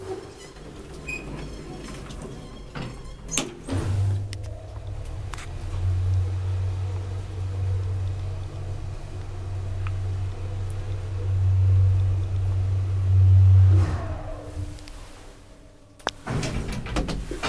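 Riding inside a 1985 Kone traction elevator: a steady low machine hum rises and runs for about ten seconds amid faint cabin rattles, bracketed by clunks and door noise at the start and end, with no talking.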